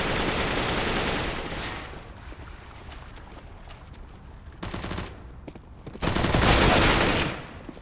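Bursts of automatic gunfire from a Counter-Strike: Global Offensive match on the Overpass map in a pro league game: a loud sustained burst, a shorter volley midway and another heavy burst near the end, with quieter gaps between.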